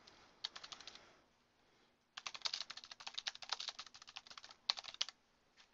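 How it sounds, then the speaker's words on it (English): Quick clatter of typing on a computer keyboard, a short burst followed by a pause, then a longer run of rapid keystrokes, close and crisp with no talking. "So you're going to type in the name."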